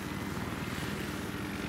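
A helicopter hovers somewhere in a military video game battle, a continuous, steady rotor drone with even thumping pulses that stays moderately loud throughout, with no voices over it.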